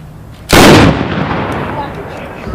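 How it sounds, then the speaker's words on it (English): Two nearly simultaneous revolver shots at a fast draw shooting competition in Red River, New Mexico, a single sharp, loud crack followed by a long echoing decay outdoors. "We got two good shots."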